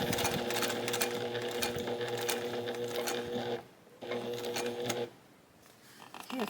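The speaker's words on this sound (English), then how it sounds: "Let's stitch until we catch this corner." A sewing machine stitches around the corner of a quilt block, with a steady, close mechanical whir that runs for a few seconds, stops briefly, restarts and then drops to quiet, with no talking.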